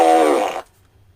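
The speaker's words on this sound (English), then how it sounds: "should we have a fart as well?" A single loud, close fart sound with a buzzy, harmonic tone lasts just over half a second and stops abruptly, leaving near silence.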